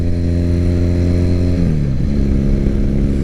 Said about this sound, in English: So this bike has been bored out to a 903 and it's been ported.